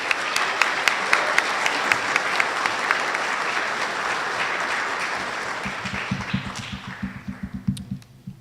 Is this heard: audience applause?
yes